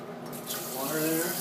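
Water runs from a tap into a kitchen sink while custard is cooked, a close, brief, steady splashing flow that swells slightly as it continues.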